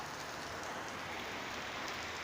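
Heavy monsoon rain pours down along the road between Guwahati and Sivasagar in Assam. It makes a steady, dense hiss with no break and no voices.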